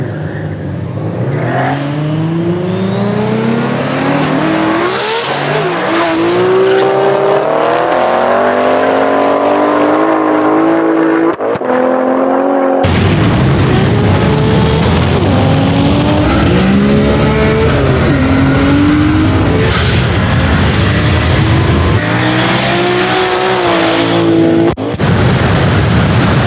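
A 1000HP twin-turbo Mustang GT and a 900HP 2JZ-swapped BMW E92 drag race, loud engines revving and climbing through gears with turbo whine and tire chirps, then a second burst of hard acceleration close by.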